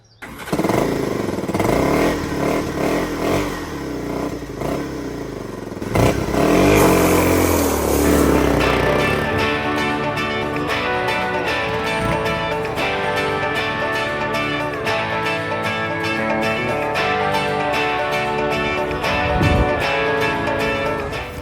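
Engine at Skilak Lake, Alaska, started on a reconnected battery: cranking and a catch, then a rising roar that settles into a steady, close running rhythm for the rest of the clip.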